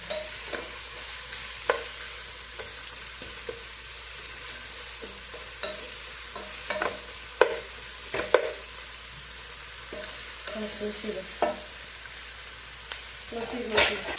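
Sliced onions and ginger-garlic paste are stirred in a hot pan for a Kothamangalam-style dum biriyani: a steady low sizzle with intermittent scraping strokes of the spoon, close up, with no talking.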